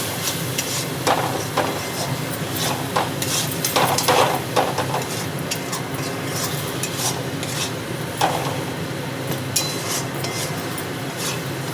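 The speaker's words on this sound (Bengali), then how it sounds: "এটাকে ভালো করে কষিয়ে নেবো।" Spice paste for Bengali chickpea ghugni is stirred and fried in a pan, with a continuous sizzle and repeated scrapes and clinks from the spoon, up close and without talk.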